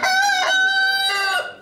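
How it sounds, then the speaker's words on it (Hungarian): A rooster crows at a small animal show held in a community hall, one loud, close, harmonic cock-a-doodle-doo lasting about a second and a half that rises and then trails off, with no talking. "Kakas kukorékolástól volt hangos a civilház hétvégén."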